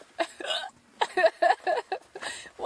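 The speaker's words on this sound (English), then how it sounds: "I just get the hiccups really bad sometimes." Close hiccups at a winter bush camp with a hot tent, several short jerky bursts in an uneven rhythm, fairly loud with brief pauses between them.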